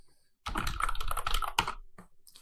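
Rapid, close clicking of a computer keyboard as answers are typed into a simple Python quiz program, a dense burst of keystrokes lasting about a second, then a few isolated taps.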